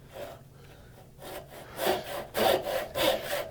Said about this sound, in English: Now I'm just cutting down the opposite side.